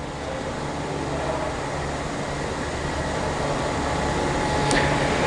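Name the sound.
spin rinse dryer running, drying wafers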